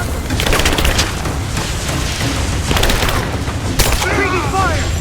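Dense, loud video game gunfire in Rise of the Tomb Raider, rapid bursts and cracks layered over one another without pause, with shouted voices mixed in.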